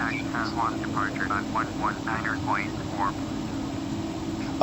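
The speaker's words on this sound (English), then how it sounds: "Man, this plane's super loud on the outside." Airplane engine in the FSX flight simulator game, heard from outside the aircraft as a loud, steady droning roar that fills the whole clip, with voices talking over it throughout.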